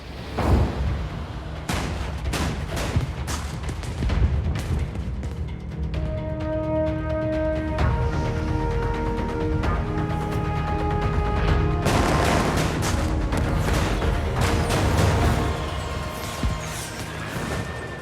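Battle sound effects of artillery fire and bombs striking the Japanese battleship Yamato during an air attack: dense, loud booms and crashing impacts, with tonal sirens or alarms rising in the middle and heavy blasts resuming near the end.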